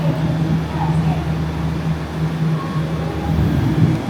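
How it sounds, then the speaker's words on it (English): A Chinese bullet train rumbles steadily nearby with a low continuous rolling drone and faint rattling throughout. "That's the bullet train."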